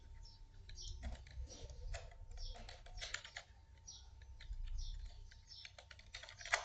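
Rapid keystrokes on a computer keyboard as a name is typed, soft irregular clicking in quick bursts, close and fairly quiet, with no talking.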